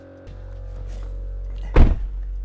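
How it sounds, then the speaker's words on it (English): A VIAIR air ride compressor mounted on isolators in a car trunk starts with a steady low electric hum and whine, then a heavy thunk like the trunk lid closing, after which the hum continues more muffled. "the noise from the compressor is even less noticeable with the trunk closed"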